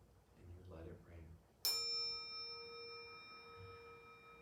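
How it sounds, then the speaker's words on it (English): A soft murmur of speech, then a single bright bell strike rings out and sustains with a long, slowly fading shimmering tone. "In a second, I'm going to hit the bell again."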